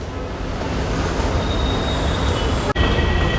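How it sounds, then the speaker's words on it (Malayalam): A train pulls out of Kollam railway station with a loud, continuous rumble of wagons and wheels rolling close by, steady throughout with a brief break near the end. "നമ്മൾ വന്ന ട്രെയിൻ ഇതാ പോകുന്നു."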